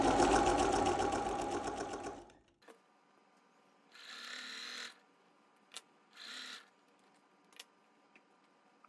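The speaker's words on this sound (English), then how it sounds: "I am going to sew this together just so you can see it" Sewing machine stitching quilt block pieces together for a linked-hearts table runner: a loud, steady whir for about two seconds that stops abruptly, followed by quiet fabric handling with a few short rustles and light clicks.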